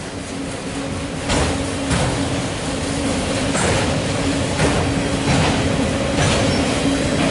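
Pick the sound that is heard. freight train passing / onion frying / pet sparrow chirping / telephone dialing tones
freight train passing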